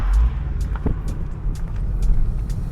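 A Ford Mustang GT V8 convertible engine revs and accelerates nearby with a steady low rumble, plus a few sharp clicks and hisses over the roar.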